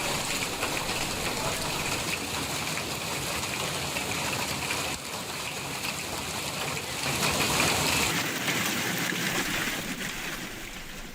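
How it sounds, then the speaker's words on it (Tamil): Heavy rain pours down steadily in a Tamil Nadu town during a hailstorm, a dense continuous wash that swells slightly louder near the end, with no voices. "இரவு 8 மணி அளவில் பரவலாக மழை பெய்தது"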